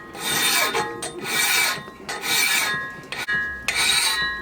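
A file rasps in repeated back-and-forth strokes across the steel teeth of a homemade ice saw, resharpening them after surface rust, each stroke loud and close with short pauses between.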